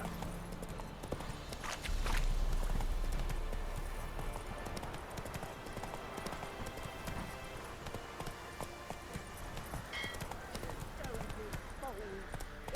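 Roach, Geralt's horse in The Witcher 3 video game, clip-clopping at a trot beneath game music and ambience, hoofbeats continuous and mid-distance while character voices speak over it.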